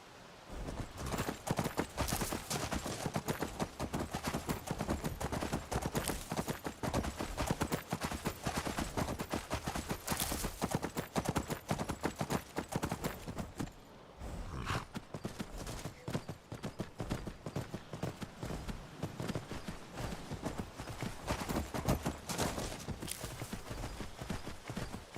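Horse hooves clip-clop steadily and loudly in a Skyrim game with the Requiem mod, a dense unbroken stream of galloping beats that pauses briefly near the middle before resuming.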